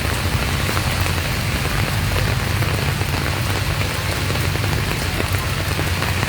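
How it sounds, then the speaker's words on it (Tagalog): Heavy rain pours steadily on surfaces in a city street in Pasig City, a dense, constant hiss and patter close by with no voices heard. "Sa Kenneth, malakas na rin po ang ulan, malakas na rin ang ulan sa may Bunga."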